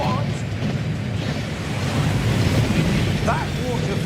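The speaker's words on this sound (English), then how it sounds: "That waterfall washes away all enchantments." Waterfall at Gringotts in the video game Hogwarts Legacy, a loud, steady rushing roar of falling water filling the scene, with a brief faint voice-like sound partway through.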